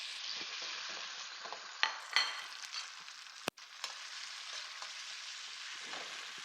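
Tomatoes frying in garlic-infused oil, a steady close sizzle broken by several spoon scrapes and clatters as they are stirred, with one sharp knock near the middle.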